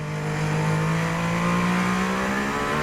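Mercedes-AMG ONE hypercar on a GP circuit, its engine holding a loud, steady high-pitched drone with a slowly rising tone, heard up close and without pause for the whole stretch.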